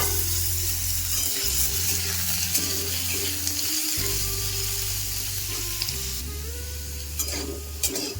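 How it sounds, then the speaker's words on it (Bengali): Small-cut potato pieces fry in hot oil, giving a steady, close sizzle across the whole stretch with a few stirring scrapes; no one talks. "আলুগুলোকে তেলের মধ্যে দিয়ে দেব।"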